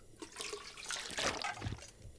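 Water being collected in the survival video game The Long Dark: a short burst of sloshing, pouring liquid swelling mid-clip and then tapering off, moderately quiet with no talk.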